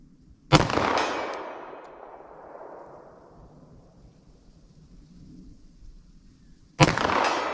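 Two loud gunshots from a 10mm revolver firing .45 ACP+P rounds at a 75-yard range, each a sharp crack followed by a long rolling echo, spaced several seconds apart with no talking.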